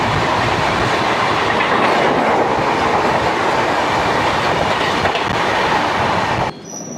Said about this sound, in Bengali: চলে আসছে train number 12703 Howrah Secunderabad Falaknuma express.